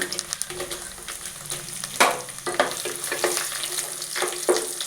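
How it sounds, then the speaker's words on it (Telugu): Dried red chilies sizzle and crackle in hot fresh groundnut oil, a steady frying hiss with sharp pops and bursts close up, and no voices over it. "ఇప్పుడు ఎండు మిర్చి వేసుకుంటాను"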